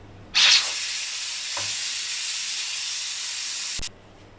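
A pressure cooker of beef masala releases a loud, steady hiss of steam for several seconds after a sharp onset, then cuts off abruptly, leaving faint background.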